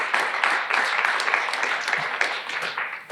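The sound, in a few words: audience applause for Philippe Vigreux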